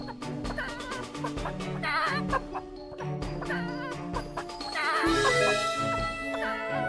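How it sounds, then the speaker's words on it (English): Chickens cluck and squawk in the video game ADventure Lib, the fowl noises bursting repeatedly over steady background game music with no pauses. "Somebody control that ridiculous... Chicken."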